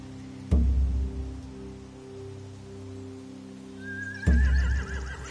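Horses neighing in The Walking Dead: The Final Season video game, two loud whinnies standing out from a steady low ambient hum with no one talking.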